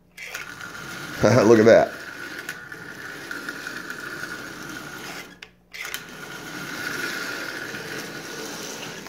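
Small electric motor of a Marx 999 toy train locomotive spinning up in a brief loud whirring burst after a hesitant start, then continuing as a softer steady mechanical hum with a short dropout.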